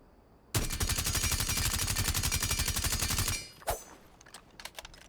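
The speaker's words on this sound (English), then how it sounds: "I'll even shoot this once, reload completely," Suppressed rifle in Rainbow Six Siege fires a rapid sustained burst of about three seconds, then stops for a brief clack and the light clicks of a reload.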